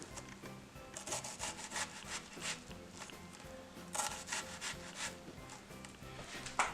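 A knife slices repeated incisions into an onion for salsa, giving close, steady rubbing and scraping strokes in an uneven rhythm with no talking.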